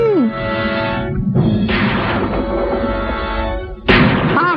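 Movie gunshots ring out as a few sharp, booming blasts separated by gaps, with voices talking over and around them.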